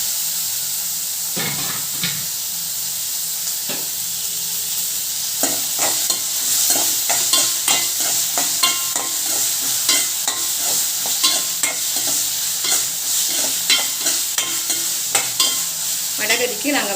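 Tomatoes with a little rock salt fry and sizzle in a pan for vada curry, a steady hiss under repeated close scraping stirs of a spoon against the metal, no talking.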